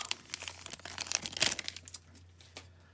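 A foil pack of 2009-2010 Upper Deck Victory hockey cards is torn open by hand: a close, busy burst of crinkling and ripping that peaks, then thins into a few last rustles.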